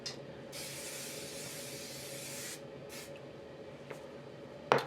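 Hairspray hisses from an aerosol can in one long burst of about two seconds, followed by a couple of short spritzes and a faint click.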